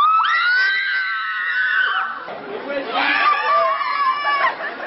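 Jubilant high-school graduates in Nice celebrating their baccalaureate results, with excited high-pitched shouts and cries of joy rising over lively crowd chatter, close and continuous.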